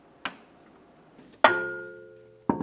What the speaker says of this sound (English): And close the lid.